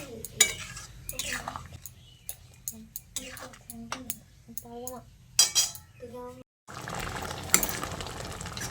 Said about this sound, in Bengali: নুনটা দিয়ে আবারও ভালো করে মিশিয়ে এই 2-3 মিনিট মতো ভালো করে একটু ফুটিয়ে নেব